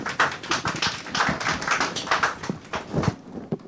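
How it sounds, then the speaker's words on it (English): Scattered clapping from a small audience at a live surgical workshop in a railway hospital, a few seconds of uneven, close hand claps without any voices. "We can hear the applause from the audience."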